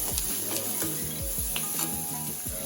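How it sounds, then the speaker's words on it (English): Onion, garlic and boiled egg curry is stirred in a hot pan, with a steady close sizzle and repeated scraping strokes of a spoon, and no talk. "mix well, give a nice mix."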